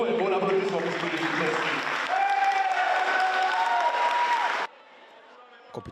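A crowd at a judo competition applauds steadily with loud, dense clapping while a voice speaks over it; the applause cuts off abruptly, leaving near silence.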